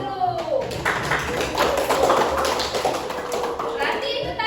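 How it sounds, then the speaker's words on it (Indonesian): Schoolchildren in a classroom clap their hands together in a dense, lively burst of applause lasting several seconds, with young voices chattering and calling out over the clapping. "Tepuk tangan dulu."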